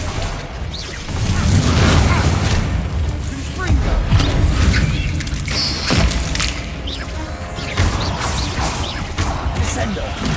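Bombarda and Confringo spells explode in Hogwarts Legacy as repeated loud booms and crashing blasts with whooshes, arriving in several bursts over a dense, continuous rumble of game effects.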